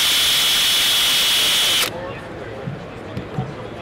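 A Powerball polishing attachment spinning on a drill hisses and whirs steadily while it polishes metal, then stops abruptly partway through, leaving faint handling sounds behind.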